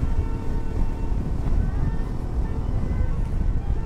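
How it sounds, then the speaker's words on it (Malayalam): Strong wind buffets the microphone on a mountain gap road through an elephant crossing zone, a steady low roaring rumble that persists without break throughout. "കാറ്റ് ഭയങ്കര കാറ്റിട്ടാ."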